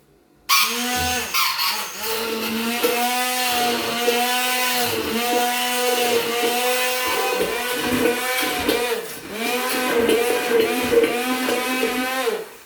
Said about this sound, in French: Alors je vais mixer.